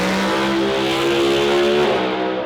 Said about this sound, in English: Do a burnout in this thing, see what we can do.